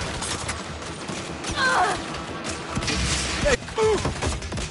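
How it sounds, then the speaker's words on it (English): Rapid gunfire crackles through a firefight at a law office in the video game Saints Row, as snipers keep up a steady stream of shots beneath a brief shouted line from a character. "Those snipers are pinning us down."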